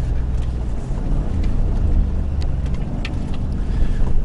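A 2017 Ford Raptor truck running at speed across the desert, its engine rumbling low and loud under steady wind noise from inside the cab.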